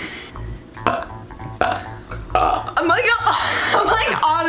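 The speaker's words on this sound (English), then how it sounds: "I'm like honestly trying to burp." Several guttural burps from a young man, close and loud, broken up by his own talking and laughter between them.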